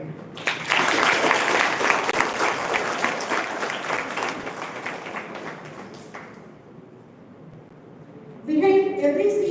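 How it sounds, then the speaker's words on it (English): Applause from an audience at a closing ceremony fills most of the clip as dense, sustained clapping. It thins out toward the end, and then a brief electronic chime sounds. "So feel free to applaud when something is being done."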